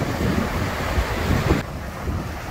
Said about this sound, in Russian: вот такая вот горная река течет.